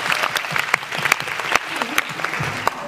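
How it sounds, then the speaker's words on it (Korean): Audience at a showcase for a musical stage show clapping together, a dense patter of applause with sharp individual claps, close and sustained, with a voice briefly audible underneath. "정말 힘내시고 여러분들 박수로 응원해 주시죠."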